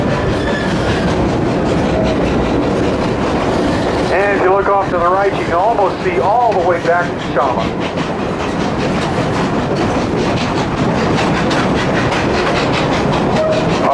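Chama tourist train rolling along the rails on a mountain route climbing toward a pass at 10,050 feet, a steady rumbling clatter running continuously beneath a narrator's voice.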